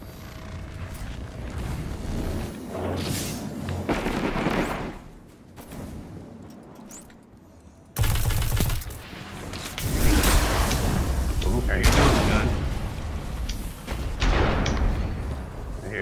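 Auto rifle fire in the shooter Destiny 2 crackles in dense bursts amid explosive booms and whooshes, quieter at first, then louder and sustained through the second half with heavy impacts.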